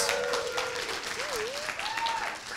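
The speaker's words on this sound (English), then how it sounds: "Give Katrina a huge round of applause." An audience at a small business talk gives a steady round of applause for Katrina, with a voice whooping and calling out in gliding tones over the clapping.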